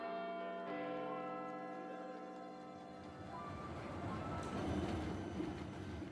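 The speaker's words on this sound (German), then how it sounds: "Hintergrund fährt die Straßenbahn vorbei." A tram rolls by in the background, its steady rumble and rail noise swelling and growing rougher, with a sustained bell-like ringing tone heard at the start.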